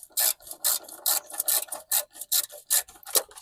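Ratchet fitted with a 13mm socket loosening the battery bolt on a Dodge Neon, about a dozen quick clicking rasps in a steady rhythm, close and alone.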